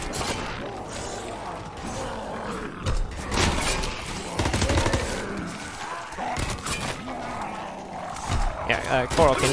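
Video game gunfire in Frozen Dawn zombies mode comes in bursts and scattered shots against zombies, mixed with clanks and game effects while players talk over the action.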